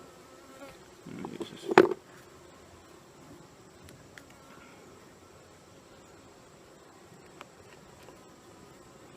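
Honey bees buzz around a beekeeper's head at a hive, a thin faint drone that swells close and loud for a moment early on, then fades to a low background hum; a voice speaks briefly.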